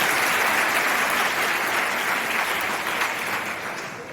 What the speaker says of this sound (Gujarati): આપણે સૌ તેમને તાળીઓથી વધાવી લઈશું